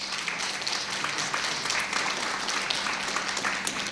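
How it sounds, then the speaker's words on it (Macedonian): An audience at the opening of a philosophy film festival claps together in a dense, steady wash of applause that lasts the whole stretch and is fairly loud in the hall. "Може еден аплауз за нив."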